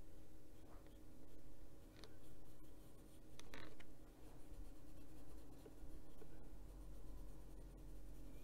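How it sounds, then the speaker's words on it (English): Colored pencils being moved and used for adult coloring: continuous scratchy pencil strokes on paper with light clicks and taps as pencils are bumped and shifted, close and quiet. "Move these pencils so they're not making so much noise."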